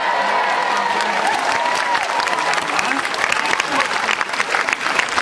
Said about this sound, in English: So keep your applause going for our cutest little 4-year-old as she heads off stage.